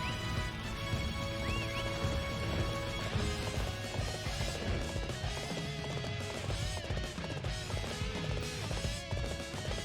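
A horse gallops in the video game Dynasty Warriors 8, rhythmic hoofbeats under a dense mix of battle clashes, music and effects.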